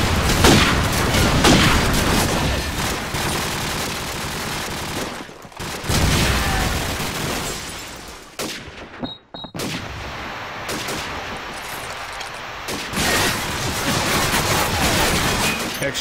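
Gunfire in Call of Duty 4 ProMod match, dense bursts of rifle and automatic fire with loud booms, close and continuous, dropping out briefly midway before resuming.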